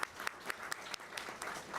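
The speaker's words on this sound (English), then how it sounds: "We must once again applaud all our panelists as well as our moderator" Moderate applause from an audience at a memorial panel discussion, honoring the panelists and moderator, with scattered sharper claps rising above a steady wash of clapping for a short stretch.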